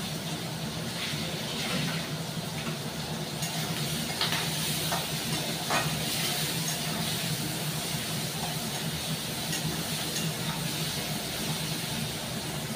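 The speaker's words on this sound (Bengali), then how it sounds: "চিংড়ি মাছটা একটু ভালো করে ভাজা হোক" Shrimp frying in a pan with turmeric and salt produces a steady, dense sizzle and hiss, close and continuous, with faint clinks over it and no talking.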